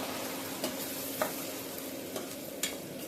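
Masala paste sizzles steadily in hot oil for a Khandeshi dhaba-style shev bhaji, with a few sharp spoon clicks against the pan breaking through the close, even frying hiss.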